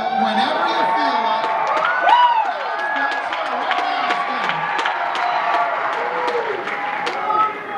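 A crowd at a video game music concert in Charlotte, NC screams, whoops and cheers before the show, with high shouts rising over the crowd noise and scattered clapping.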